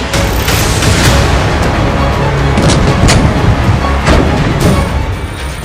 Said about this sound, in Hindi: पेलोसी के दौरे पर विरोध दर्ज करवाने के लिए चीन ने ताइवान के 6 तरफ लाइव फायर एक्सरसाइज शुरू कर दी है।